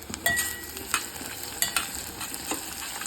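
Onions sautéing in a pan as asafoetida is added for a Tamil manathakkali vathal kuzhambu: steady close sizzling with soft stirring scrapes and occasional spatters, no voices.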